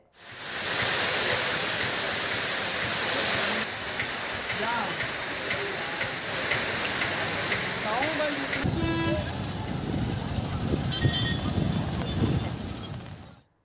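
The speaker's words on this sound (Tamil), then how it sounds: "ஏத்தாப்பூர் ஆகிய பகுதிகளில் இடியுடன் மழை பெய்தது" Heavy rain pours steadily on a street during a news report, a continuous loud hiss with passing vehicles and a brief horn toot; no distinct thunder stands out, and a voice speaks over part of it.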